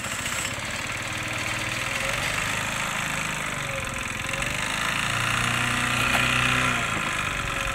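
A scooter bought for parts runs steadily as a woman tries it for the first time, with a loud, close, buzzing small engine idling and then revving slightly, alone without talk.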